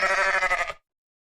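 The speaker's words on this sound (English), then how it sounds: "Sheep." A single sheep gives one loud, close, wavering bleat lasting under a second, which stops abruptly into silence.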